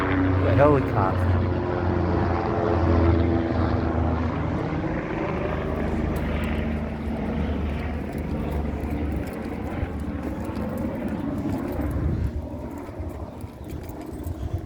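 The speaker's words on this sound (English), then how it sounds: "Helicopter." A helicopter passes over a street of older multi-family houses in Jamaica, Queens, New York, a steady rotor and engine drone that holds loud throughout and slowly shifts in pitch.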